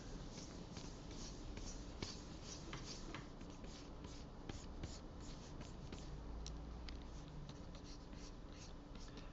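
A stylus drawing on a tablet for digital animation, heard as soft continuous scratchy strokes and light rubbing in a steady rhythm, faint and close with no talking.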